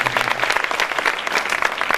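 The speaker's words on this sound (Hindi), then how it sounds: "जरा दोनों हाथ खड़े करके ताली वाली बजा दीजिए मेरे सम्मान में" An audience at a Hindi comic poetry gathering claps with both hands, dense and steady applause filling the hall, loud and close throughout.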